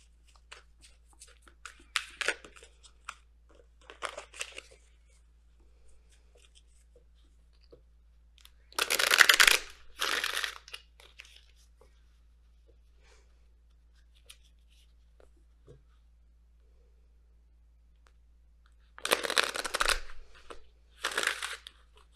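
Oracle cards being shuffled close by in a quiet room: several separate bursts of crisp riffling and flicking, short and fairly soft, with longer louder shuffles in the middle and near the end and silence between.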